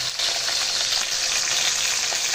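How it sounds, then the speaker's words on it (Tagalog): Pork chops fry in oil in a pan, giving a loud, dense, continuous crackle and sizzle that fills the short stretch at close range with no voices. "malapit na tayo matapos magprito"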